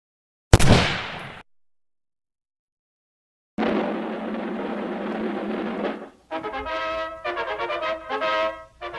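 A sharp burst of gunfire cracks out, then silence, then a longer roar of shots and a run of rapid, echoing bursts, loud and close, staged as a shooting attack.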